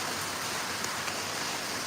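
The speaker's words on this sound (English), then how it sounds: "Do y'all hear the rain?" Rain pours steadily outdoors near a carport, a dense, even hiss of falling drops with a few faint louder taps, close and continuous with no voices.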